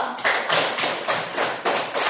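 A class claps together in a steady rhythm, about eight sharp, close group claps over two seconds, with no talking.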